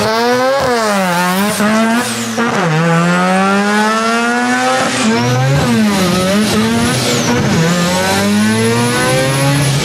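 A lightweight rotary-engine car of about 1,600 pounds and nearly 400 horsepower screams loudly, revving repeatedly up and down through sharp rising and falling sweeps, close and continuous with no voices.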